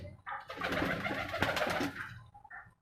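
Pigeons cooing nearby, including a female Buddha Komola pigeon, with soft throaty rolling coos and a short call at the end, alone without talk.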